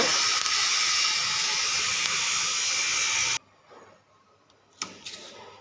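A 15 kVA industrial servo voltage stabilizer switches on, with a steady loud hiss and whir that cuts off abruptly, followed by quiet and a couple of faint clicks.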